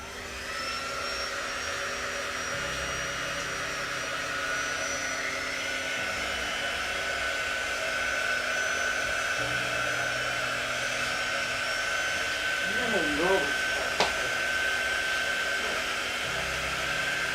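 A hair dryer blows steadily on a craft project, a constant close whooshing hum that runs the full length with slight shifts in tone and a faint brief clink near the end.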